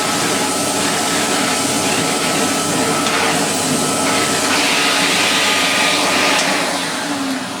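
Vintage Electrolux XII (Model 12) canister vacuum cleaner fitted with an upholstery tool, running as a loud, steady, close motor roar with a rushing airflow hiss throughout.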